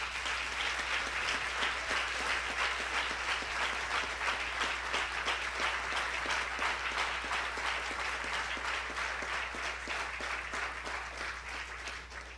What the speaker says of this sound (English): let's just give them a hand clap